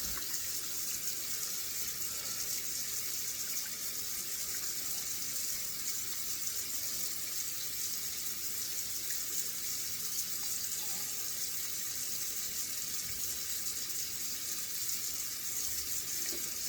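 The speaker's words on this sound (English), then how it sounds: "Hold on while I just wash some of this excess soap off my face." A bathroom tap runs continuously as soap is rinsed off a face, a steady close hiss of flowing water with small splashes and no talking throughout.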